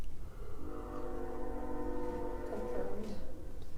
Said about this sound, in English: normally this train is carrying oil, crude or otherwise